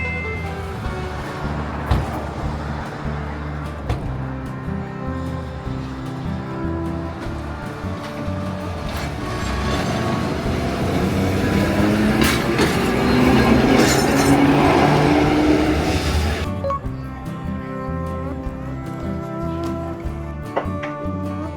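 A street tram in Dalian, China rumbles past on rails running along the road, its clattering wheels and metallic squeal swelling to a loud peak midway before fading away.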